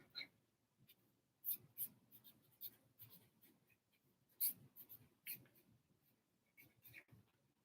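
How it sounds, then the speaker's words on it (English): Marker or chalk strokes on a board during a psychology lecture: faint, close, irregular scratches and taps spread over several seconds in a quiet room. "I don't know why I'm writing so small today"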